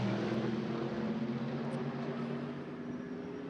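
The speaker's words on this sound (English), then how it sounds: "So the 2 Mercedes across the line, they rumble past the hospitality units and the grandstand on the start-finish line" Two Mercedes GT3 race cars rumble past the grandstand and hospitality units on the start-finish straight at the Macau Grand Prix, a steady engine drone that is fairly faint and distant and eases off slightly toward the end.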